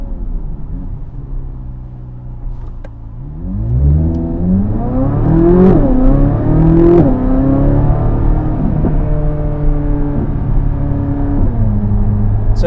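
A Corvette C8 Z06 V8 idles with a low steady burble, then revs up sharply in rising stepped pulls with a rich harmonic howl before settling back to a raised hum, loud and close with no talk.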